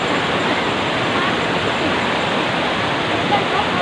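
A flooded, swollen river rushes past in a dense, steady roar of water that stays even and loud throughout, with no talk standing out.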